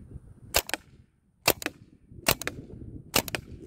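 A CO2-powered airsoft HK 416 replica firing as its gas runs low, four separate bursts of two or three quick sharp pops each, spaced about a second apart, with low hiss and rumble between them and no talking.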